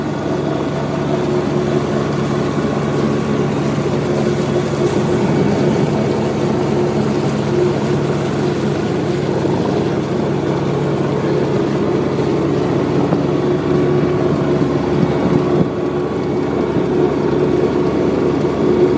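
A boat engine runs at full throttle through Porlier Pass against a four-knot current, a steady loud drone with continuous hull and water rush that does not change, and no talk.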